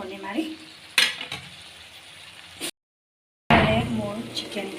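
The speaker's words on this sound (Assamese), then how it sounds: "অলপমান চিকেন মছলা পূৰা ফ্ৰাই হ'বলৈ দিম ঢাকনি মাৰি।" Chicken with potato and chicken masala frying in a pan, with close sizzling and clattering stirring against the pan, broken by a short silent gap, and a voice talking over it.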